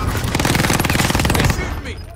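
Rapid automatic gunfire rattles out in Call of Duty Warzone on Fortune's Keep, a loud, close burst of dense shots for about a second and a half before tapering off, with player voices mixed in.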